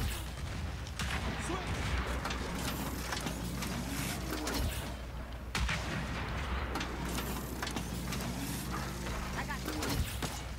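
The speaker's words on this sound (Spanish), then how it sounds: "Nomás oigo pura explosión" Gears of War 4 multiplayer explosions and mechanical clanking in a 4-versus-4 Dodgeball match on the Harbor map, dense continuous game noise with heavy booms around the middle and again near the end.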